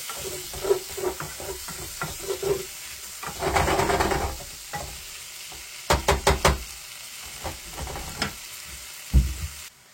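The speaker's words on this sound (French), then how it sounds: "Je vais faire sauter ma viande." Beef searing in a hot pan for a braise, sizzling and frying with scraping stir strokes and knocks of a utensil, several sharp bursts of hissing, close and without talk.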